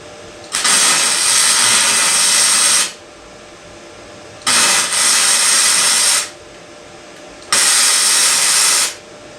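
A flux core welder lays three tack welds on a race lawnmower frame, each a steady loud crackling hiss of about two seconds with short quiet gaps between them.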